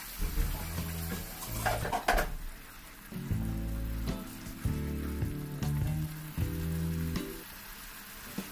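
Besan gravy cooks in a pan for a besan pitod curry, with soft continuous sizzling broken by several clattering stirs and scrapes of a utensil against the pan.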